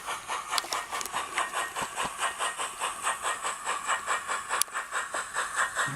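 OO-gauge 2-6-2T model steam locomotive fitted with a Soundtraxx Econami ECO 100 sound decoder, chuffing in a steady, quick rhythm with hissing steam and a few sharp clanks, close and fairly quiet, no voices.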